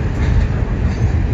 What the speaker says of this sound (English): Red train right here.